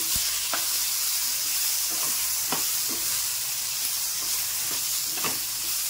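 Chopped tomatoes and green chillies hitting a hot pan of onions for a vegetable dish, giving a loud continuous sizzle and hiss with occasional spoon scrapes.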